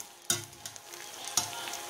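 Vegetable biryani stirred gently in a pot, two distinct scraping strokes of the spoon against the pot over a soft sizzle, close and clear with no talking.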